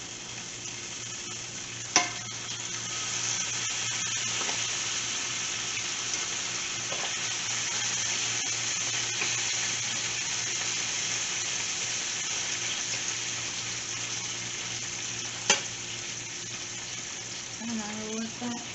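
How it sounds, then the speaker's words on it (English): Bacon fries in a pan with a steady broadband sizzle throughout, broken by a couple of sharp utensil clicks and some light stirring or scraping near the end. "So you guys, our bacon is cooking"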